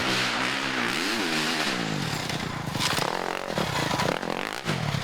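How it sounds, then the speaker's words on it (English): A KTM enduro motorcycle on a trail in a national enduro race at Westpoint, Tennessee, revs hard near the microphone, its engine pitch swinging up and down with scraping and clattering. "really hard on the throttle on that KTM"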